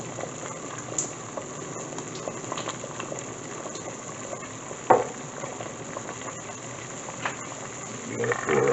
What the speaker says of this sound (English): Our water is at a rapid boil right now.